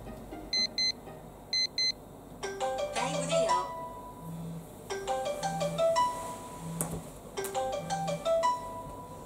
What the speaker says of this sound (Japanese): 朝はですね、人事からの電話で起こされることが多いです